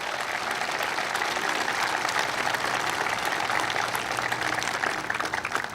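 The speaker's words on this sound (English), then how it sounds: "Give Jeremie a big round of applause." A crowd at the Port of Wilmington applauds steadily during a speech, many hands clapping in a thick, continuous wash, a faint low hum running underneath.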